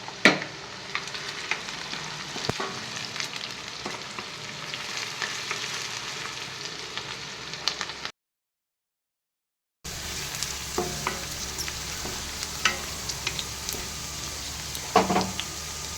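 Sliced onions and green chillies sizzle steadily in hot oil in a pan, with spoon scrapes and stirring throughout, cutting out briefly before the frying hiss returns.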